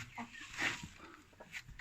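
Short soft clucks from a Brahma chicken, close by, mixed with light rustling and a hint of a voice in the background.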